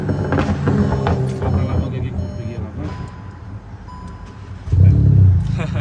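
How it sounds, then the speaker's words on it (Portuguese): A Volkswagen Golf R engine fires up near the end with a sudden loud, deep rumble that holds steady, following a stretch of people talking over low cabin noise. "Então o carro liga por aqui"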